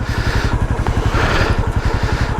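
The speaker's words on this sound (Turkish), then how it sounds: "Motorun da biraz daha ısınsın böylece rolantide." Falcon Freedom 250 motorcycle, a long-unused bike, idling while it warms up, its single engine putting out a loud, close, steady rapid thumping pulse.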